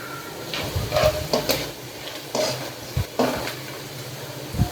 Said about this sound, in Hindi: अब इसको हम अच्छी तरह से मिक्स कर लेंगे।